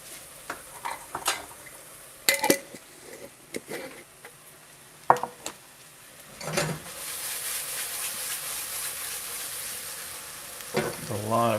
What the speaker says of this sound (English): putting a little scoop of my ginger garlic turmeric paste into a pot over here. I'm going to saute that for a minute or two